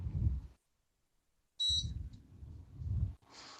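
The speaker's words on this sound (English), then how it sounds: "that beeping is the induction cooktop" Two brief high electronic beeps from an induction cooktop, one mid-clip and a fainter one at the end, over low background rumble.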